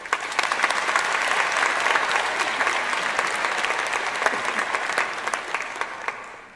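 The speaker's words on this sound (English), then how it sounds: "Please give her a round of applause." Audience applauding a commencement speaker at a UBC Vancouver spring 2018 graduation ceremony, a steady, dense wash of many hands clapping throughout, loud and sustained before fading slightly at the end.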